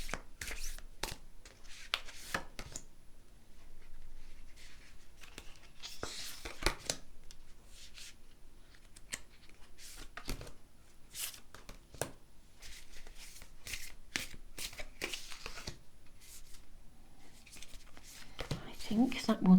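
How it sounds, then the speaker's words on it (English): Tarot cards are shuffled and handled in a series of irregular soft slaps and riffles, close and quiet, with brief flurries scattered through about twenty seconds. "Let's draw your tarot cards."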